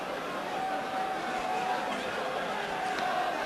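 Football crowd at a Plymouth Argyle v Fulham match in the 1997/98 season, a steady broad roar of murmuring spectators filling the stadium, even and moderately loud throughout.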